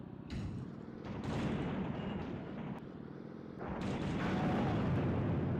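Twisted Metal 2 gameplay with a heavy, booming explosion and rumbling blasts from the vehicular combat. Loud, dense roars swell in waves and sustain with a low-end rumble.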